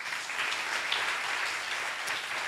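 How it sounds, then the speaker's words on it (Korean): A church congregation at a mission service breaks into sustained applause offered to God, a thick, uniform clapping of many hands held at a steady, moderate level throughout. "하나님께 영광의 박수 올려드립니다."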